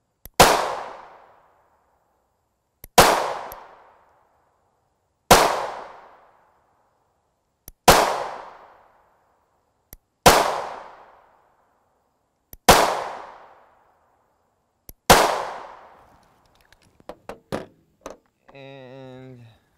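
Seven loud 9x19mm 124gr FMJ pistol rounds from an STV Scorpio fired over a chronograph, evenly spaced sharp reports with ringing decay, followed by a few small clanks and a brief electronic beep.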